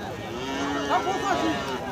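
A cow lets out a few short, close moos at a busy Bangladeshi cattle market while haggling over its price goes on around it, set against a steady crowd hum.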